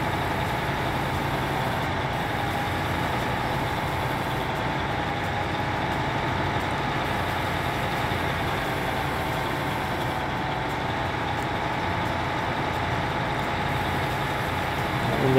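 A tractor engine idles in the farming game Landwirtschafts-Simulator 19, a steady, even diesel rumble that holds at one level throughout with no other sounds standing out.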